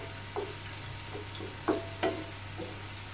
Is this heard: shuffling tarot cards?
no